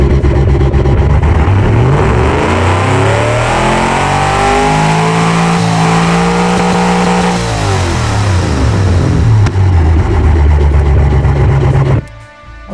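A 7-liter carbureted engine in the Automation car game revs up and back down in one long sweeping cycle, loud and close, its harmonics rising then falling before cutting off abruptly near the end.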